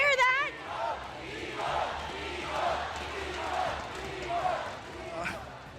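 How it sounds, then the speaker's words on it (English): An esports arena crowd cheers at an ONIC match, a broad swelling roar that rises and falls in waves, with a loud announcer-style voice shouting over it at the start and end. "You hear the crowd? They're cheering for you."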